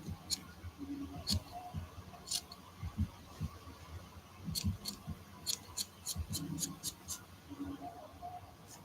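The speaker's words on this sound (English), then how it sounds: "Going to cut feather trim." Sharp scissors snip through feather trim for an art doll in a quiet felting workspace, with a string of close, crisp cuts in uneven bursts, several rapid snips clustered together toward the end.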